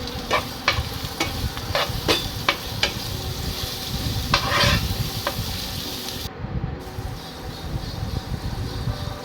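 Masala paste being stirred into fish curry in a pan, a steady oily sizzle broken by sharp clacks and scrapes of a spoon against the pan, close up with no voices.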